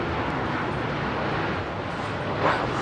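A Royal Air Maroc Boeing 737 MAX airliner roars at Heathrow on a windy day, a broad steady jet rush filling the clip with no talk and a slight swell near the end.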